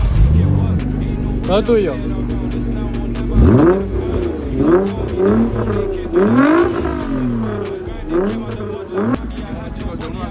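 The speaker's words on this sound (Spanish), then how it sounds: "¿qué os parece el sonido de este Nissan?" Nissan GT-R R35 sports car engine, heard after a short exchange of voices as it fires up, then revs repeatedly in sharp rising-and-falling bursts before settling into a steady idle, loud and close.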